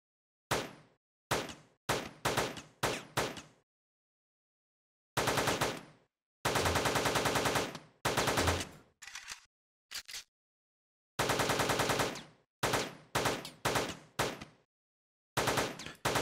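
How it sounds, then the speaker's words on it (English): Gunfire in the video game Teleglitch: loud, crisp bursts of rapid shots, some single and some in sustained automatic runs, separated by dead silence, with no talking. "Need to just shoot this stuff then."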